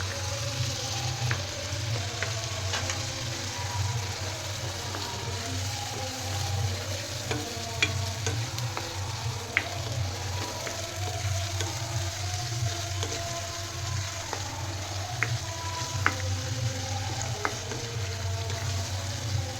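Ginger, chili and garlic paste fries in a hot pan for an aubergine and potato curry, giving a steady, dense sizzle throughout with occasional small pops and crackles, close and continuous.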